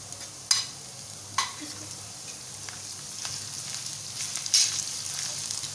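Garlic ginger paste and green chilies frying with onions in a pan, a steady close sizzle with occasional sharp clinks and scrapes of stirring.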